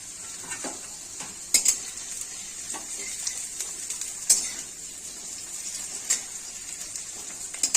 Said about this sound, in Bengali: তেল সুন্দর হয়ে গরম হয়ে গেছে, এবার আমি আলুগুলো ছেড়ে দিচ্ছি।